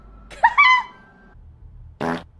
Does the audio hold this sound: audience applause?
no